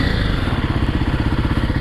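A Kawasaki KLX 300R dirt bike engine running at a steady idle, loud and close, with a fast even rhythmic thrum and no talk over it.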